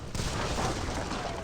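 Gunfire volley in Age of Empires 3, a dense burst of crackling musket shots and booming cannon blending into a continuous battle roar for about a second and a half.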